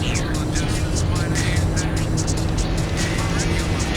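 A turbocharged car engine drones steadily at high revs in Gran Turismo 4, a constant buzzing hum with a faint voice talking over it.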